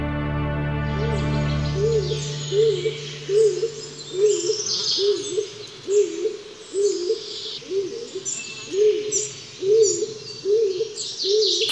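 Rhythmic series of soft hoots repeating at a steady pace from a Tengmalm's owl at its nest, with high chirping and twittering calls of its chicks above, close and clear.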